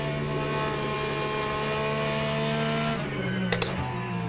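Race car engine in Le Mans Ultimate, a steady droning whine held at constant revs with strong tonal harmonics, fairly loud and continuous, with a couple of brief clicks near the end.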